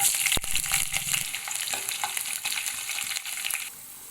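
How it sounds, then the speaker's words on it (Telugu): Onions hit hot tempering oil with mixed dals and peanuts for vegetable rice, giving a loud, continuous sizzle with a sharp clack near the start and spoon stirs throughout before the hiss softens. "తాలింపు వేగిన తర్వాత ఆనియన్స్ వేయండి"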